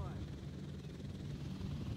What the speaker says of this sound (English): Helicopter in the back.